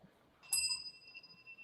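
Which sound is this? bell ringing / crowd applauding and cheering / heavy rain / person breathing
bell ringing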